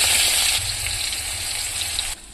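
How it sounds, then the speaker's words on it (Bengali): Onion and garlic paste dropped into hot oil in a pan after a tempering of cumin and bay leaf, producing a loud, close, continuous sizzle and frying hiss that drops off sharply near the end. "এবার আমি দিয়ে দেব পেঁয়াজ রসুন"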